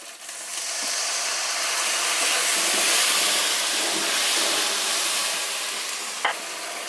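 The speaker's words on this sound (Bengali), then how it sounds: "মশলাটা যাতে পুড়ে না যায় সেজন্য দিয়ে দিলাম সামান্য একটু জল" Spice masala sizzles in hot oil in a pan just after a little water goes in, producing a broad, steady steaming hiss that swells and slowly eases, with a faint clink near the end and no talking.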